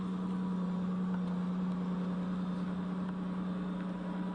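A Toyota MR2 race car engine idles steadily at a hillclimb with a low, even hum, somewhat faint and unchanging throughout.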